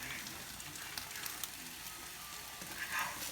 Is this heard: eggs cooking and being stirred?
yes